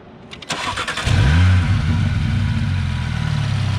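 An Audi RS3 fitted with a CTS turbo intake cranks and fires up, then settles into a loud, close, steady idle with deep engine drone and a brief rise in revs.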